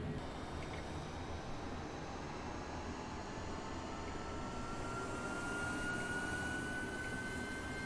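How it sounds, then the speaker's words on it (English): An aircraft APU spooling up in the video game Flight Simulator 2020, a steady, moderately faint turbine whine and hiss with a thin tone that rises slowly in pitch, heard alone. "our APU is going up, the APU percentage is going up"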